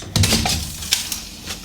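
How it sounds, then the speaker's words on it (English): A utility knife blade nicks a sheet of plasterboard during ceiling boarding, giving a short scrape and click near the start, followed by a few faint light taps and scratches. "Then just with your knife, just make a little nick in there."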